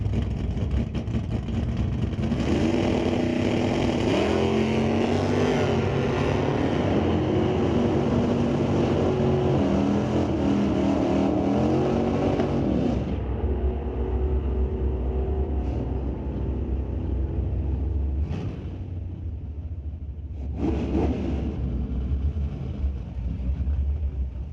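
A 383 Chevrolet-powered second-generation Chevy S10 drag racing at a strip, its loud engine roaring steadily for about thirteen seconds with shifting harmonic tones, then fading into lower rumble and distant noise.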